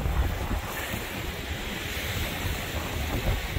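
Strong wind rushes at a bay during a kiteboarding session on a Onewheel, roaring steadily against the microphone with buffeting gusts and a low rumble throughout, no voices.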